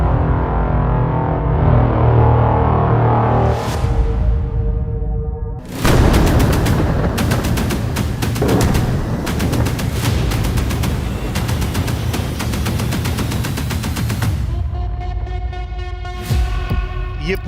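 Booming bomb blasts and bursts of gunfire from airstrikes near Aleppo, Idlib and the Damascus highway, loud and continuous, with a few sharp, heavy impacts breaking through a steady roar.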